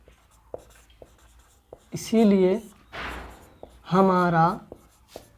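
Pen or chalk scratches out handwriting during a maths lesson, with soft, intermittent strokes and taps close by, interrupted by two stretches of a voice speaking.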